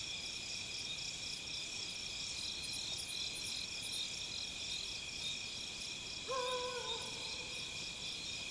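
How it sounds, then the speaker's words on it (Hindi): A single owl gives a brief hoot at night in the jungle, faint and distant against a dense, continuous chorus of crickets and insects. "ये अभी एक उल्लू दिखा था पेड़ के ऊपर"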